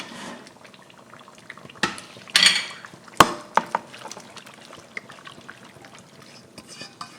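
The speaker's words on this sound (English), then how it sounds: "I'm going to add my okra to it" Fresh okra tipped into a simmering pot of stew and stirred, with a few sharp spoon-and-pot clanks and scrapes standing out over a low bubbling background, followed by quieter scattered clinks.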